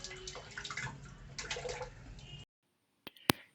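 Calcium nitrate being stirred into water, a short run of watery swishing and sloshing that stops abruptly, followed by silence and a couple of sharp clinks.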